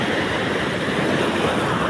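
Sea waves wash continuously onto the shore behind the Kunkeshwar Mahadev temple in Devgad, a steady broad roar of surf with wind noise on the microphone, loud and close, with no talking.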